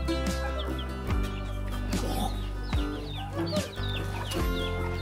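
Chickens cluck and squawk repeatedly inside a crowded coop with ducks, close and fairly loud, with several overlapping birds and a few sharp louder calls breaking through.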